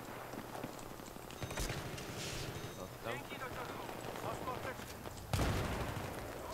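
Scattered gunshot-like cracks from Battlefield 3 team deathmatch pop in the background while people talk and laugh over them.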